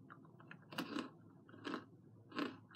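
Crunchy Whoppers chocolate malt balls being bitten and chewed close up, with about three distinct crisp crunch bursts spaced through a quiet moment and no talking.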